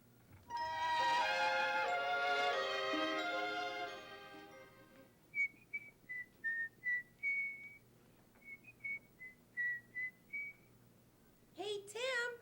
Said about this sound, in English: Who'd you think was whistling?